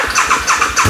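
A 2008 Harley-Davidson V-Rod with fuel injection and factory exhaust, its engine catching and settling into a brief, loud, pulsing idle.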